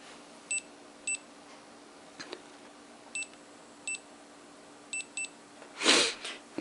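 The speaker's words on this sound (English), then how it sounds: "there's a beeper right there that will go off." A coilgun's optical trigger sets off its small electronic beeper, sounding about seven short, clean, identical beeps at irregular intervals in a quiet room, followed by a brief rustling noise near the end.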